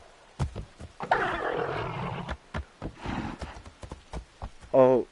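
Hooves clop and a horse mount snorts and whinnies with a growling, roar-like edge, ending in a wavering squeal; a mount call in Assassin's Creed Shadows.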